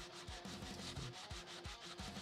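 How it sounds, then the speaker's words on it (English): Close, steady rubbing of abrasive paper over a thick cast resin model piece, with repeated back-and-forth strokes in an even rhythm throughout. "I'm sitting there sanding this thing because this thing's like super thick. So I'm trying to sand this piece down."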